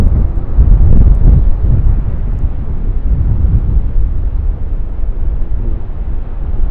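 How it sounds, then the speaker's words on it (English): Strong tropical storm gusts of about 35 to 40 mph roar across the microphone at Hollywood Beach, Florida, where rough surf is breaking. The buffeting is loud and continuous, with no voices. "35, maybe 40-mile-an-hour gusts of wind"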